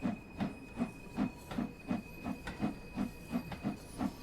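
A steam locomotive in Train Sim World 2 puffs in an even rhythm, about a dozen regular chuffs with hissing bursts, moderately loud and alone.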